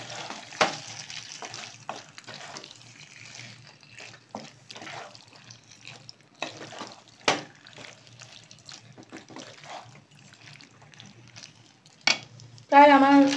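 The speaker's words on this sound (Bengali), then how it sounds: "এরপরে খুব ভালো করে এটা নেড়ে নিচ্ছি।" White sauce pasta being stirred in a pan, with soft scraping and light wet clatter running throughout and a few sharper knocks, ending on a louder burst with a clear voice over it.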